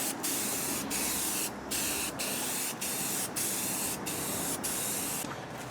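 A TH400 transmission being spray painted: a steady, close, loud hiss of aerosol spray running almost continuously, broken by several brief pauses.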